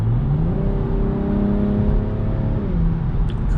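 A 2021 BMW M440i in sport mode revs as it accelerates, its engine note climbing steadily and then easing, steady and close from inside the car with a constant road rumble beneath.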